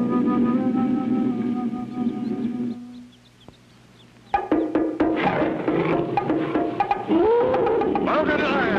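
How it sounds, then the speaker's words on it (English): A cartoon mountain lion growls and snarls in a 1959 animated adventure. Tonal music comes first, then a brief hush, then a loud, rough roar with excited voices over it. "Can he escape the claws and fangs of that mountain lion?"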